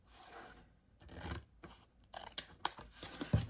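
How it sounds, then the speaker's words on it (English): Scissors trim a clear shipping label into a tag, making several short crisp snips and rustles of plastic film, close and quiet, with brief pauses between the cuts. "I just keep trimming it down to get a nice even border as best I can"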